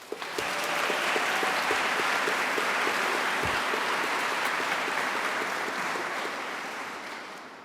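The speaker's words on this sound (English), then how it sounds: "Can we get a cheer for that?" A large graduation ceremony crowd erupts into loud, continuous applause with cheering mixed in, holding strong for several seconds before slowly easing off.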